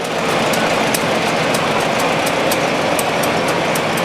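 A 1949 model SC tractor runs at a steady idle in a county fair tractor parade, a continuous loud engine rumble with a faint regular ticking and no talk.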